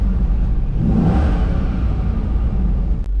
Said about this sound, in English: I'm gonna give you guys a little bit of a sound of the exhaust